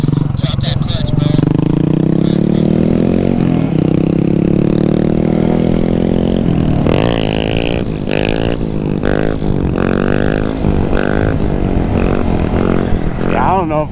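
Grom motorcycle revved hard, then the clutch dropped for a wheelie: a loud, close engine drones, then climbs and bounces through rising revs while voices talk over it.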